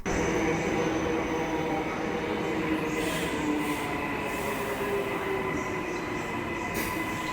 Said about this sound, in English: So now we're getting the train to a place called Landsborough